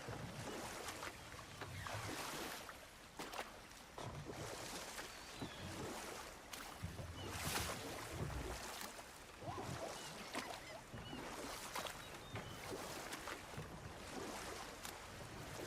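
Rowing a boat across water in God of War Ragnarok, with faint sloshing, splashing strokes and a steady wash of wind and waves at low volume.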